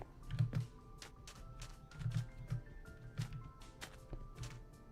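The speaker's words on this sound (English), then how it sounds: "my keyboard is kind of loud" Loud computer keyboard clacking in short irregular bursts at a desk, moderately close, alongside faint game sounds from a Minecraft session and a low background hum.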